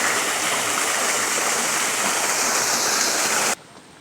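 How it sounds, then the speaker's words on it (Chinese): A small mountain stream in the hills near Shuhu in Taiwan rushes and burbles steadily up close, a loud continuous wash that cuts off abruptly near the end. "你看这边有一条小溪嘛"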